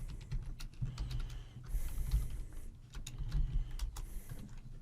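Fingers tapping test card details into a computer keyboard, a steady run of quick, close clicks over low background hum, with no talking.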